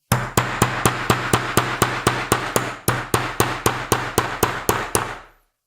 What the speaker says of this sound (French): je tape doucement le long du bord